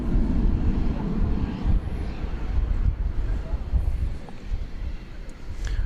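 American Airlines Airbus A321 airliner at DFW Airport, a loud rumbling jet roar that swells and slowly fades, with wind buffeting the microphone.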